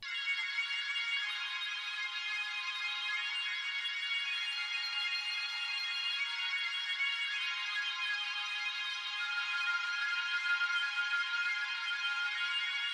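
A high-pitched, airy arpeggiated synth loop keeps up a thin, steady shimmer of rapid notes with no low end, soft and even throughout, with no voice.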